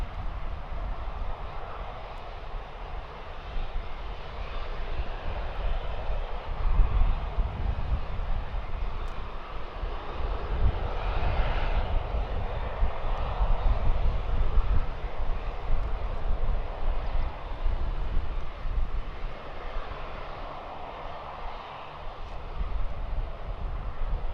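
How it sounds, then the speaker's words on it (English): An Osprey tiltrotor aircraft flies unseen in the pattern at RAF Mildenhall, a distant low rumbling drone that swells and fades gently over a long stretch with no talk. "I can hear an Osprey, but I can't see it"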